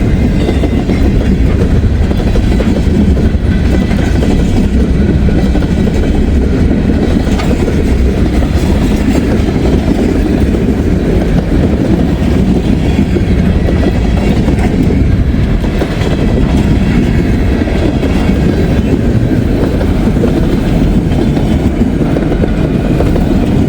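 A train takes a curve close by, a loud, unbroken rumble with steady clickety-clack from the wheels over the rails, lasting the whole stretch with no voices.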